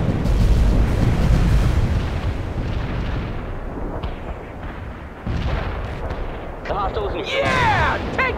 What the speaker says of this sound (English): We're dropping our payload. Take cover down there.